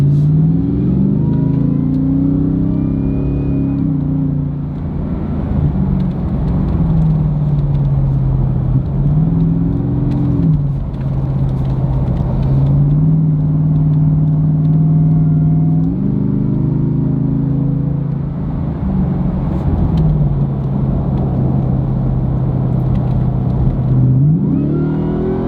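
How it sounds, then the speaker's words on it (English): A Ford Raptor R pickup with a supercharged V8 drives along, its engine rumbling steadily with rising and falling revs and a faint whine over the drone, loud and continuous throughout. "We'll do what we can to get some supercharger noise as we're driving around."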